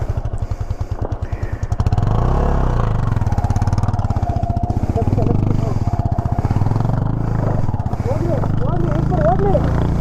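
A motorcycle engine running near Gavi Betta in Sakleshpur as riders climb on, a close throbbing idle that swells after a few seconds, with people talking over it throughout.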